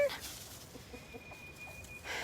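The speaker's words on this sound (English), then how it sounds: "He's such a beautiful rooster" A few soft, low clucks from a rooster, spaced irregularly over a faint steady background hum.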